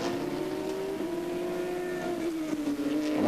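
Porsche RS Spider race cars on the final lap at the 2007 ALMS race in Salt Lake City, a steady high engine whine that drones on and shifts pitch slightly, heard from a distance without commentary.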